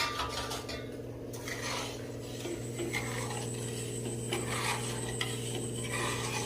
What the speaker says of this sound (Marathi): याचा साखर विरघळेपर्यंत आपण आता याला हलवून घेऊया.